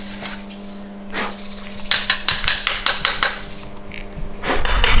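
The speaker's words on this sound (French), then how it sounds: "la couche qui est sur la soudure, qui s'appelle le laitier, c'est une partie qu'il faut comment dire, faire sauter" Hammer chipping welding slag off a weld: a quick run of sharp, close metallic taps, about a dozen in steady rhythm, over a low background hum.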